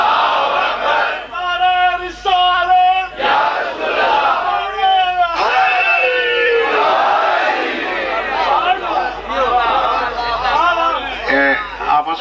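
A crowd at a religious gathering chants the Shia slogan Nara-e-Haidri, many loud voices rising together in rhythmic, forceful bursts of shouting that overlap and swell throughout.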